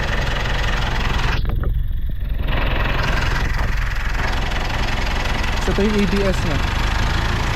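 A Mitsubishi Strada pickup's diesel engine, fitted with a full aftermarket exhaust and downpipe, idles with a steady, close mechanical clatter, while someone talks over it.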